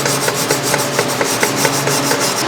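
MIG welding bead laid with a YesWelder MiG 205-DS at about 19 volts: a steady, loud, close crackling hiss with rapid sizzling pulses and no pauses.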